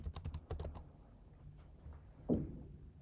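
Quick bursts of keystrokes on a computer keyboard as a search term is entered into a Shopify search bar, clustered at the start and then sparser, single taps, close and fairly quiet with no talking.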